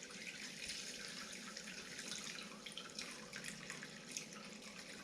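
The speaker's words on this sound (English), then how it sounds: "You can now hear it draining down into the bowl." Hot rendered beef suet tallow pours and drains into a bowl, making a soft continuous trickling and pattering with faint drips, quiet and close, with no voices.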